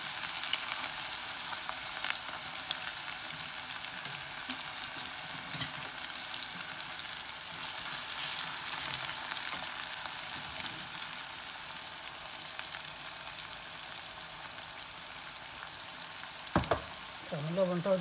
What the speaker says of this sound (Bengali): আমি পেঁয়াজ দিলাম পেঁয়াজ কাটা কাটা দিচ্ছি